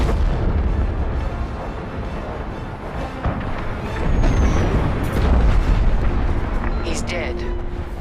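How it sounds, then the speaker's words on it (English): A frigate blowing up in Star Wars: Squadrons, heard as heavy, rumbling explosive booms and crackling blasts that swell in the middle, with characters talking over the din. "The frigate is about to explode."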